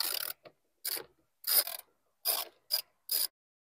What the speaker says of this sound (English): First tool, 10mm socket